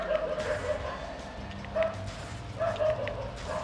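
Dog barks from the video game God Hand, a few short yelping bursts spaced apart over background game sounds, moderately loud.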